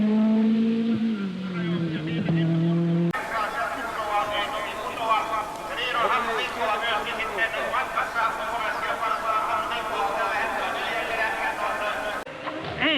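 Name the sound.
Peugeot 205 T16 Group B rally car on tarmac stage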